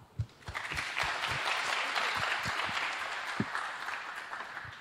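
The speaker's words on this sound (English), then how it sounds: "another big applause" An audience at a lightning talks conference session claps in a steady round, with several sharp, close individual claps standing out over the broader applause before it thins at the end.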